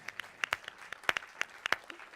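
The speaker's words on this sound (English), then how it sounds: "we give them a round of applause?" Sparse, faint clapping from a small audience applauding a choir at a music industry night, a dozen or so scattered claps spread over a couple of seconds, without voices.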